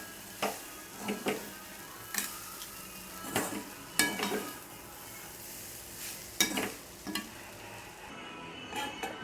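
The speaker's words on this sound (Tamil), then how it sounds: "இப்போ நல்லா கிளறி விட்டுக்கலாம்." Rice mixed with egg is stirred in a hot pan, the spatula scraping in sharp, irregular strokes every second or so over a faint sizzle.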